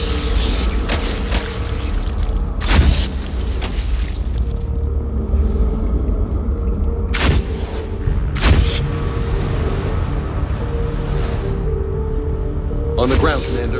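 Several booming explosions go off in the Mass Effect video game over a constant rumbling background, with sharp bursts near the start, middle and end and a voice talking at times.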